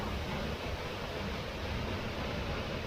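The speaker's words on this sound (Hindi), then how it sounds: "तो दोस्तों, चलते चलते यहाँ एक खूबसूरत वाला झरना मिला है।" Waterfall beside a mountain road in Arunachal Pradesh, between Migging and Pango: a constant broadband rush of falling water, even and unbroken throughout, fairly soft and steady with no voices.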